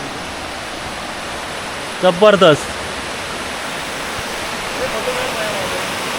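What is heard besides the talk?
river flowing and gurgling under a small bridge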